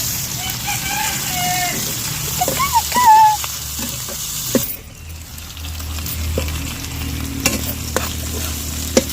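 Dried fish (shutki) fries in oil with chopped and ground garlic, onion and salt, giving a steady close sizzle with stirring scrapes and occasional clinks while a voice speaks early on.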